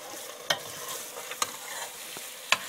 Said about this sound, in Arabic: اشوحه واكمله